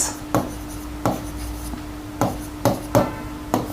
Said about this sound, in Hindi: पहले हम यहाँ लिखते हैं पॉलीगोनल नंबर्स।